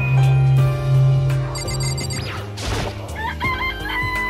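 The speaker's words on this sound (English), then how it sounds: "This place even has chickens, huh?" A rooster crows and chickens cluck in the video game Danganronpa, loud and close, with a sustained low tone under the crowing and a few bright electronic chimes near the end.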